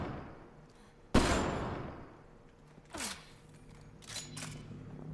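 Sci-fi gunfire in Mass Effect Andromeda: one sharp, loud blast followed by a fading tail, then a few fainter shots and whooshes.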